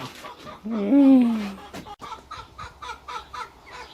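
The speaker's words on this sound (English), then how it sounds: "Nosy chicken." A chicken in a cluttered shed gives a drawn-out squawk and then a run of quick rhythmic clucks, close and moderately loud, with no voices.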